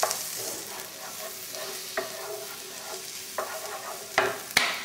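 Peppers and onions fry in a pan with a continuous close sizzle, broken by a few sharp clicks and scrapes of stirring utensils, with no talk.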